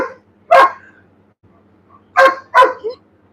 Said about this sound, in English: You can't be barking while I'm talking.